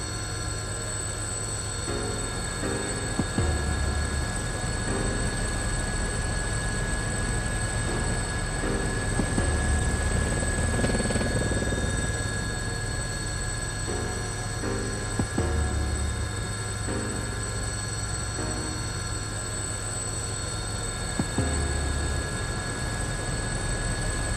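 Helicopter in flight within the Persona 4 Arena Ultimax fighting game, a steady droning hum with a rhythmic low rotor pulse holding throughout at moderate loudness, with no voices.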